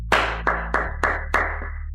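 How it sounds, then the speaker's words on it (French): About five sharp, evenly spaced claps ring out loud and close in a wedding hall, each one decaying into the next rather than a full crowd ovation. "Une salle d'applaudissements pour l'encourager?"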